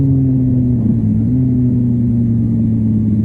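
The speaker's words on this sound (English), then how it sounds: "Here, he's revving the motor, but the clutch release is so slow he loses all the revs from his throttle blip." Motorcycle engine held at steady revs with a throttle blip during a downshift, the revs sagging slightly as the clutch is slowly released, producing a loud, continuous mid-pitched drone close up.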